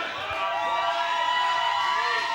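Wrestling arena crowd at a UCW-Zero independent show cheering steadily, a dense wash of many voices at moderate distance, with some louder shouts and whistles rising briefly.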